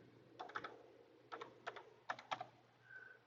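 Keys tapped in short clustered bursts while a 6-digit pairing code is entered for a Yardarm holster sensor camera, several quick clicks then pauses, fairly quiet and close with no voices.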